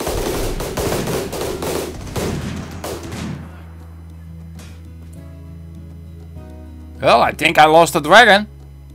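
Rapid automatic gunfire from the modded RimWorld game crackles in close bursts for several seconds, then fades to a low hum before a voice speaks.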